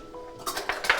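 A tablespoon is picked out from among kitchen utensils during cooking, giving a few quick, bright metallic clinks and rattles that are close and brief.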